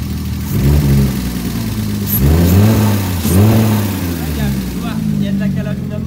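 A car with a modified silencer, sounding like a rally car, revs hard several times, each rise in pitch followed by a fall back to idle, loud and close, with brief voices over it.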